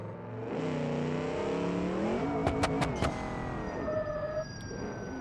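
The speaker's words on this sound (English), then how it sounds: "So let's do the final boost and launch and burnout in this car with this engine." A car in the BeamNG.Drive driving game, the OG Barstow with its boosted engine, launches and does a burnout: a steady, loud engine drone rising in pitch as it revs, with a few sharp clicks or pops midway and a fading tone at the end.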